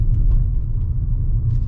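A car in fifth gear picks up speed on the road, overtaking, with a steady low engine and road rumble and faint tyre noise, close and continuous throughout.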